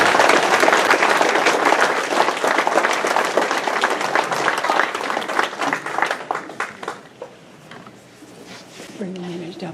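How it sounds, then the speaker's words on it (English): An audience at a sheriff's awards dinner applauds loudly with dense clapping that thins into scattered claps and fades, while a voice talks over the tail. "Y'all give them a round of applause for that."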